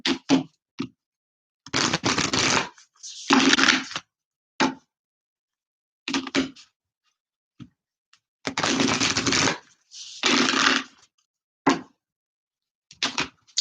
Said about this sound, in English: just a couple more shuffles here for the Scorpionians.